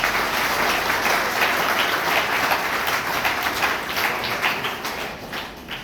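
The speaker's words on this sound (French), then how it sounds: "Gloire, vous applaudissez, s'il vous plaît." Church congregation applauding at a pastor's installation service, sustained dense clapping from many hands that fills the space evenly for several seconds before easing slightly.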